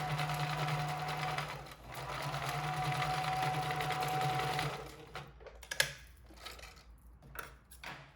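A sewing machine stitches a folded fabric face mask closed in a steady whirring run of about five seconds, then stops, followed by scattered handling clicks and rustles.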